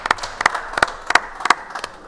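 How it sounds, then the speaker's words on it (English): Applause at a DGC 2014 Gran Turismo race event, the final race at Motegi, as a few people clap in a steady, sparse rhythm of sharp, fairly close claps for about two seconds. "Round of applause, everyone,"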